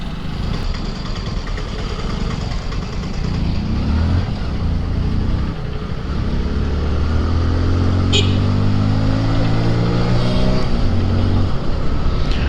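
Motorcycle engine held in second gear at about 40 on a hill road near Munnar, a steady droning hum with rising and falling pitch sweeps, close and fairly loud over wind rush.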